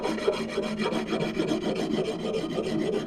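Sandpaper rubbing down a wooden axe handle during refinishing, a close, steady rasping scrape in quick back-and-forth strokes with no voices.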